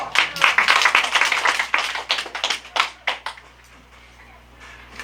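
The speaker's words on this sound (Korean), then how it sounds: "박수를 한번 쳐봐봐" Listeners at a church lecture break into a burst of brisk, loud hand clapping that thins into a few scattered claps and then fades out.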